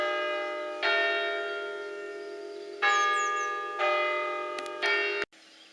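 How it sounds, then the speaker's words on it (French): Church bells ring the hour at ten o'clock, each rich toll sounding clearly and separately with a lingering hum between strikes, heard indoors at moderate distance. "ça a sonné 10 heures, donc c'est bon, les 10 coups sont passés"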